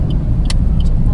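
A Suzuki Ignis GX MT with a manual gearbox creeps through heavy traffic jam conditions, giving a steady low engine and road rumble from inside the cabin, with a few brief clicks and ticks over it.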